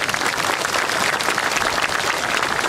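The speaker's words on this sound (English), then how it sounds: "Let's give these folks a big round of applause." Sustained, loud applause from a crowd at a Vietnam veterans day celebration, dense even clapping throughout with no pauses.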